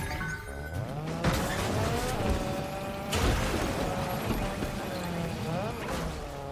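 A car in Fortnite drives with a continuous engine roar, its pitch rising and falling, and tires squeal and skid through turns. A voice is faintly present in the background.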